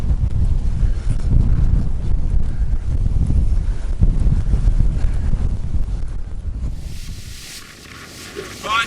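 Strong wind buffets the microphone in a loud, continuous roar of low rumble and gusting noise outdoors during a hard journey toward Barth, easing slightly near the end.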